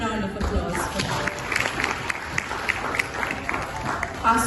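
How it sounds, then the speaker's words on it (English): Conference audience at an international awards event in Dubai claps in a steady, fairly dense round of applause, moderately loud and sustained throughout with no talking over it. "Can we have a huge round of applause for that?"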